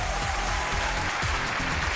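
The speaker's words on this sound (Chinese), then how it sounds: "掌声有请这一队" Studio audience applause on a Chinese television dating show, a dense, steady wash of many hands clapping that fills the whole stretch at fairly even loudness with no voices on top.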